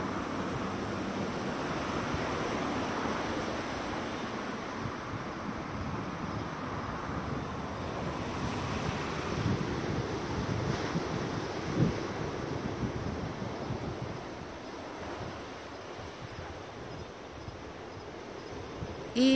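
Ocean waves wash onto a pink-sand Bermuda shore at night, a continuous broad rushing surf mixed with wind noise on the microphone, moderately quiet and steady, with no voices.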